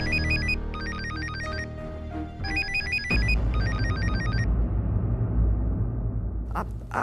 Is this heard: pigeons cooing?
no